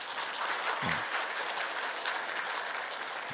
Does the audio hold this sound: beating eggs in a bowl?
no